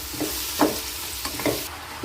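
A spoon scrapes and stirs bottle gourd curry in a pan, several quick strokes sounding over a light sizzle of frying, close and clear.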